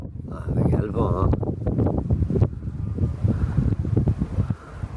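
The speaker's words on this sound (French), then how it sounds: "Ah, il y a le vent, hein." Gusty wind buffets the microphone in low rumbling bursts while a person talks over it outdoors in a tomato garden.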